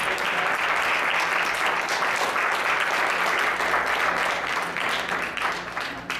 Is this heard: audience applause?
yes